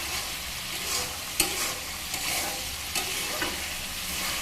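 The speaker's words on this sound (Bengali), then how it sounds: "মশলাটাকে এরকম করে কষিয়ে নেব।" Spice paste with sesame paste for ash gourd greens is stir-fried in a pan, a steady sizzle broken by spatula scrapes and light knocks.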